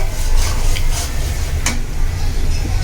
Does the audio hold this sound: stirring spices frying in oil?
yes